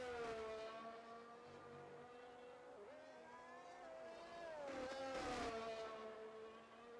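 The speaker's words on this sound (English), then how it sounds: "The safety car is crossing the start-finish line right now." Engine of the safety car in a racing video game at the Belgium round, a steady, fairly quiet tonal drone that rises and dips in pitch as it revs, heard alone.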